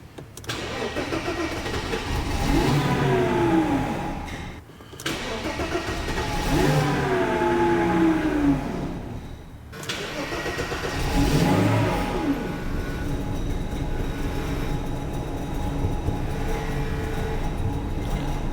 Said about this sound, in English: Let's put the boost pack on it and see if it starts.